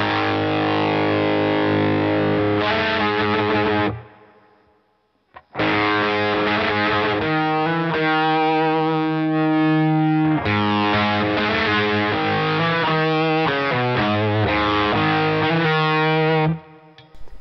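Electric guitar driven through a Boss FZ-1W fuzz pedal into an amp, thick saturated fuzzy chords and riffs played in bursts with a brief pause near the start, loud and close, no talking.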